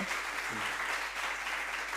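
Soft, even clapping from an audience at a disaster risk reduction panel discussion, fairly quiet and sustained across the whole stretch.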